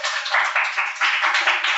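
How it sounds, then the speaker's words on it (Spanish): A small audience applauds a young girl at a puppet show, brisk steady clapping from several hands heard close and fairly loud, band-limited as if through a phone or stream. "Muy bien, aplauso para la hermanita."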